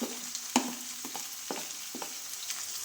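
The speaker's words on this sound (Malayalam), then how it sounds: "ഇനി നമുക്ക് ലാസ്റ്റ് കറിവേപ്പിലയും കൂടെ എടുത്തിട്ട് നമുക്ക് ഇട്ട് കൊടുക്കാം" Curry leaves dropped into hot oil with garlic and ginger for a rambutan pickle crackle and sizzle in a steady hiss, with several sharp spitting bursts near the pan and no talking.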